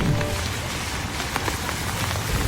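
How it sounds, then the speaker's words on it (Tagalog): Heavy, unrelenting rain pours down in Tagbilaran City, Bohol, during Typhoon Basyang, a dense, steady wash of drops close by with no voices. "walang tigil ang ulan sa Tagbilaran City sa Bohol dahil sa bagyong Basyang"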